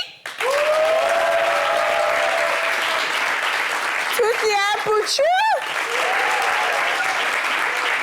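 A studio audience applauds loud and steady for several seconds, with a voice speaking and shouting over the clapping.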